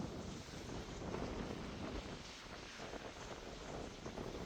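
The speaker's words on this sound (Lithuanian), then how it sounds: "kai šniokščia per vėjo malūnus garsas toks baisinis" Strong wind roars around wind turbines at a hilltop viewpoint about a kilometre high in the Portuguese mountains near Piodão, a steady broadband whoosh with gusting buffeting on the microphone and no voices.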